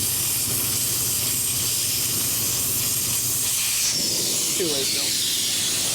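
Air hisses steadily out of a tire being drained on a 1995 Harley-Davidson Evo Softail motorcycle, a continuous broadband rush under someone speaking briefly.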